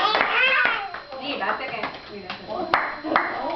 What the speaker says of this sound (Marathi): टाळी वाजवायला शिकव